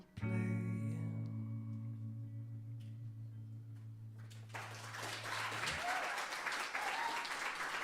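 Audience clapping breaks out after a live song at a songwriter and band showcase in a small venue, rising as the last sustained music notes stop and continuing as dense, steady applause.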